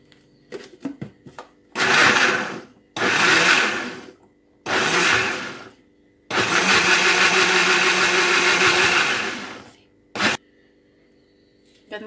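Blender grinding carrots with milk: four loud whirring bursts, the last and longest lasting several seconds, with a short final pulse, separated by near-silent gaps after some light clicks and handling.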